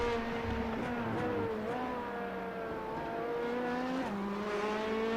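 Prototype and GTD race cars lapping the Daytona road course in iRacing, engines droning and revving continuously at close range with shifting pitch as they brake and accelerate, no talk over it.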